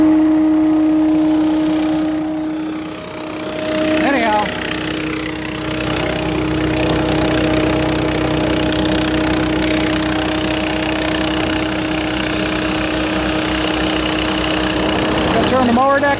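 A small engine runs loudly and steadily, a continuous rattling drone with a brief dip early on, close by.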